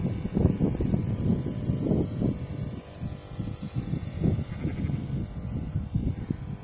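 Sheep grazing beside a paddy field bleat repeatedly in short, wavering calls, overlapping from a few animals nearby, with light wind rumble in the background.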